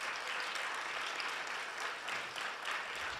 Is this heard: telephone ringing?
no